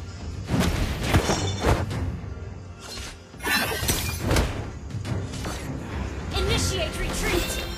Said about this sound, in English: Our turret has been destroyed.